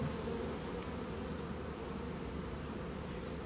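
A steady, dense buzzing of many bees fills the air, constant and close, with no voices.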